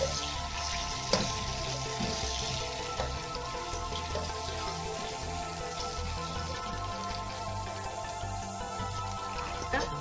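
Crushed rusk roasting in a pan for halwa gives a steady, fairly quiet crackle and sizzle with scattered drop-like ticks, continuing evenly from start to finish with no talking.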